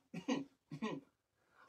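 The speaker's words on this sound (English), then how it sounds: "I'm going to start making a beatboxing album with my coughs today." Two sharp, close coughs in quick succession, followed by a faint softer throat sound.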